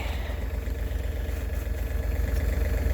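A John Deere A tractor engine running after a cold start, a steady low rhythmic idle thump with continuous mechanical rumble, fairly close and alone with no talk.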